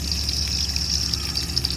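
Water pours from an opened faucet onto a small water wheel, giving a steady, close hiss and splash with a faint rhythmic churn underneath over a short stretch.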